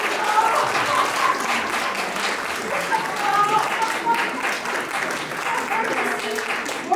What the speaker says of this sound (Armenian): ջերմ ծափողություններով դիմավորենք այսօրվա հոբելյարին